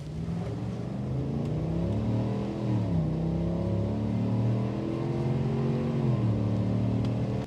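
A 2026 GMC Sierra 1500 AT4 pickup truck pulls away from a stop, its engine note rising and shifting through gears in a steady, loud, close drone with no one talking.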